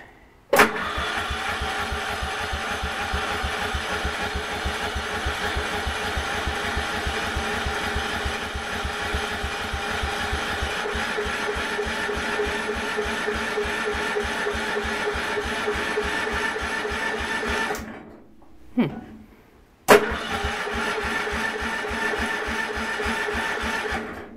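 A car engine cranks and catches, then runs in a steady rhythmic idle nearby, cutting out briefly near the end before restarting with a sharp burst.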